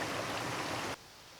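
River water rushes in a steady broadband roar, loud and close, in a snowy setting near a waterfall, then cuts off abruptly about two-thirds of the way through, leaving quiet.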